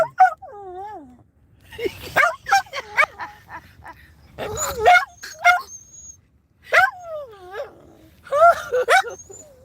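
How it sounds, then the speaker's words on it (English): A dog howls in long wavering, rising and falling yowls in several close, loud bursts separated by short pauses, sounding almost like singing. "Oh, that dog singing"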